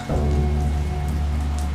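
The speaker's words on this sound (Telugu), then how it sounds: "వర్షం చాలా ఎక్కువగా పడుతోంది" Heavy rain pours steadily near an old Hanuman temple, a dense and constant hiss of falling water over a low droning hum.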